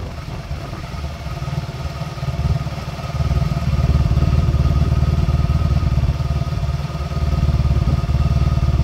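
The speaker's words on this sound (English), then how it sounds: "1100, which is what my bike should be idling at for a California model." A 1997 Honda Magna, a California model, idles steadily with a low, even rumble and light mechanical clatter, the engine speed rising slightly partway through and then holding, close and alone.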